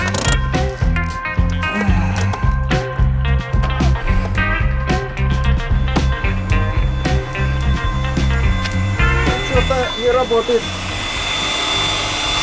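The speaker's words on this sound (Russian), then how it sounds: "И какой-то шум от мотора при холодном запуске." A car's 1.6 BSE engine runs on a cold start with a loud, rhythmic mechanical drone and a whining, turbine-like tone. Someone speaks briefly over it.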